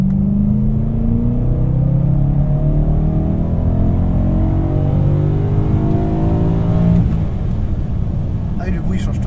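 A BMW M3 E92 engine pulls hard under acceleration, its deep rumble rising steadily in pitch as revs climb, loud and close from inside the car, then easing off near the end.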